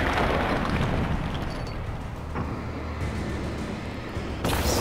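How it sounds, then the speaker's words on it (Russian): An explosion goes off in the video game Alan Wake: The Writer, giving a loud, broad rumbling blast that rolls on for several seconds. A sharper burst of debris noise comes near the end, with no talking. "Взрыв."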